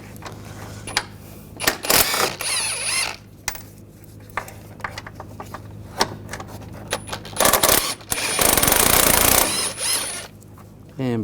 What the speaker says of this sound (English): We're going to take these bolts out.